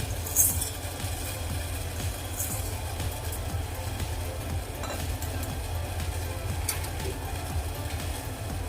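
Sugar and cardamom syrup bubbles in a pan for bread gulab jamun, a dense steady bubbling hiss with faint stirring scrapes and light clinks, close and even throughout.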